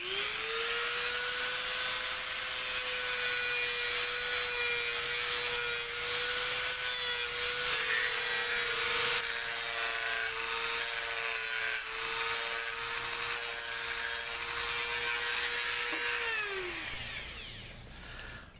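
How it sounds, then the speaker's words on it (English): Dremel rotary tool shaping a Kydex knife sheath, a loud steady high-pitched whine with gritty rubbing as the bit works the plastic, held for a long stretch before spinning down at the end. "now I'm just going to use the Dremel tool just to kind of do some, I guess, more detailing to get to the final shape"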